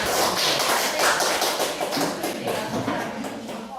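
A classroom group claps for a presenting student team, a dense burst of steady applause that fills the room and tapers slightly toward the end.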